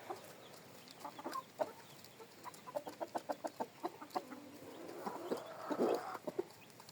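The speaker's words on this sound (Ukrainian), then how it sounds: "Півник минулорічний." Last year's rooster and mixed hens in a farmyard cluck in a quick series of short, fairly faint calls, building to a denser, louder squabble near the end.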